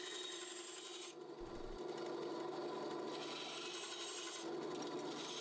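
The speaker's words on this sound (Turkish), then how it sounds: "Kabzayı yapıştırmadan önce uç kısmın zımparasını tamamlıyorum." Sanding the tip of a Nessmuk knife blade made from a truck leaf spring, before the handle is glued on, gives a steady close rasping scrape that pauses briefly and resumes with changing intensity.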